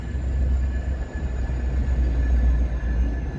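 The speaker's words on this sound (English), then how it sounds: "Sounds like the metro train's pulling right underneath us here." A metro train rumbles directly underneath the Chicago Riverwalk, a loud, continuous low roar with faint steady tonal whine above it, swelling slightly as it passes, with no talking.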